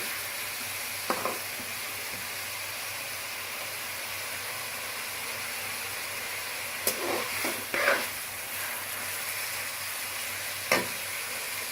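Onions sizzle and hiss steadily in a pan for chicken masala, a continuous close frying sound with a few soft stirring scrapes and clinks.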